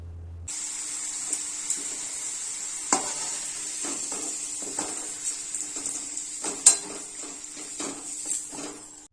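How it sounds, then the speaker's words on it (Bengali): Pumpkin pieces fry in a pan for a Bengali shukto, giving a steady, moderate sizzling hiss with scattered metallic clinks and scrapes of a stirring utensil. "এবার কুমড়োগুলোকে ভেজে নিতে হবে।"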